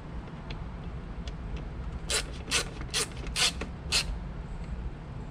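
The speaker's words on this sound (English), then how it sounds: "And then we will use the screwdriver actually to tighten these up." A screwdriver tightens screws on an interior trim panel in a Mazda MX-5: five short, crisp ratcheting bursts come close together near the middle, with quiet in between and no talk.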